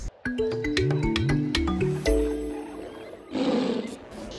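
A tiger in its enclosure lets out a series of loud, close, rising and falling growling roars, then a long breathy rush to finish.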